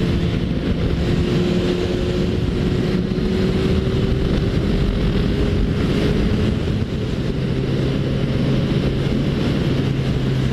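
A Suzuki Bandit 1250 motorcycle accelerates hard on the Dutra highway, its engine a loud, sustained drone that climbs steadily in pitch under heavy wind rush.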